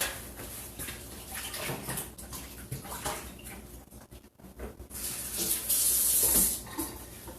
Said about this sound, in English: And so I need to wash my hands.